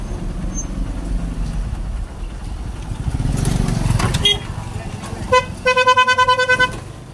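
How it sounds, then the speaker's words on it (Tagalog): A vehicle horn with a bread-and-puto vendor's tone honks in a rapid burst of repeated short toots near the end. Before it comes a steady road rumble from a moving vehicle, with people talking under the engine noise. "Yung busina parang titinda ng tinapay at puto eh."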